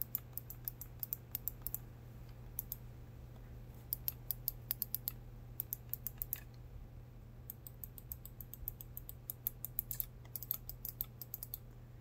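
Clicks of a Cinch game controller's buttons, sharp and mouse-like, tapped in quick irregular bursts over a steady low hum, fairly faint and close.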